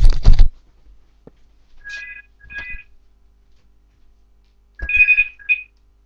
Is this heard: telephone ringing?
yes